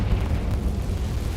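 A Confringo spell explodes in a Hogwarts video game as a short, heavy, close blast with a deep rumbling roar that fills the whole moment, with no voices.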